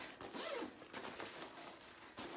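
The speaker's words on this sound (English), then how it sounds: "You've got a zipper pocket here." A zipper on a diaper bag pocket is pulled in short rasping runs with small clicks and pauses, close and quiet, with no talking.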